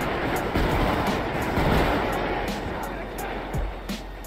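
A train rumbles past in GTA V, a broad steady roar with faint clicks, heard under talk.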